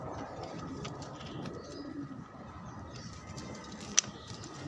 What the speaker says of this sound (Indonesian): Oke, kita ambil merpatinya.